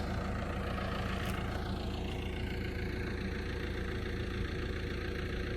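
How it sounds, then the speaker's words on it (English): A John Deere tractor engine runs at a steady idle in a Swiss valley near Säntis, a constant low rumble with a faint knocking texture that stays close and even from start to end. "John Deere tractor."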